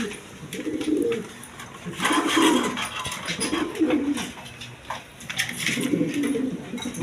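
Pigeons kept in pairs with eggs and chicks coo in repeated low rolling phrases, several birds overlapping nearby, with faint chirps and background noise in between.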